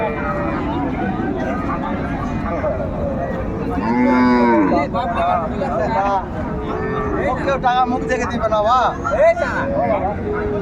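Several Sindhi cows moo loudly in turn over a busy crowd of voices talking, with livestock and chatter filling the noisy open Raniganj cattle market.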